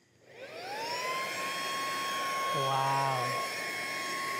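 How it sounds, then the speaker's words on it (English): A portable cordless car vacuum cleaner for a Tesla runs in blower mode with a nozzle attached, giving a loud, steady high-pitched whine that spins up and holds. The airflow shifts briefly partway through, and a single short exclamation is heard over it. "we are going to be testing the blower functionality"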